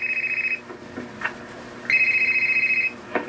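A phone rings with an incoming call: two bursts of a steady electronic ring tone, the first short and the second about a second long, separated by a quiet gap.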